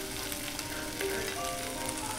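Chicken frying in a pan, a steady, dense sizzle that holds at an even level throughout, close and continuous with faint tonal hum underneath and no talking.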